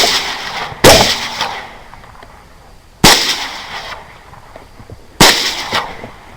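A 6.5 Grendel rifle loaded with Spear TNT bullets fires three sharp, loud shots at night during a hog hunt, each crack followed by a short decaying echo, roughly two seconds apart.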